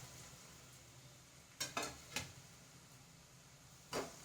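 A spoon scrapes and clacks in a pan as beef kondattam is stirred with cumin powder and crushed chilli, a few distinct knocks standing out over a faint steady sizzle.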